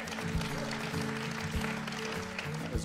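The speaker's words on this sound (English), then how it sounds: "That's worth applauding." Audience applause following a speech honoring a WNBA team, a broad, steady wash of clapping across the whole stretch with a low hum and faint voices mixed underneath.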